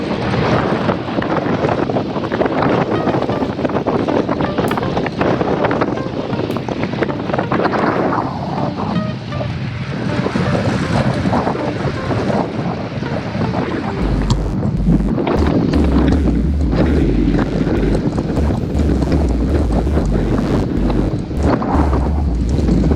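Strong, continuous wind roars across the microphone while riding a road bike on a group ride over flat terrain near Bedias, Texas, a heavy low rumble building toward the end, with no talk.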